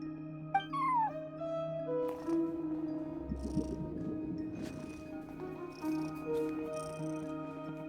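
A cat meows a few times at a front desk in Genshin Impact, with short, clear mews standing out over a steady game music and ambience bed.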